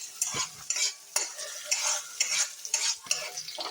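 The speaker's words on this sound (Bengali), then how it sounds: "তো আঁচটা বাড়িয়ে আমি ভালো করে পেঁয়াজটা লাল লাল করে ভেজে নেবো" Onions frying over high heat are stirred briskly in a pan, with a sharp sizzle broken by a rhythmic series of close scraping strokes, roughly one every half second, and no talking.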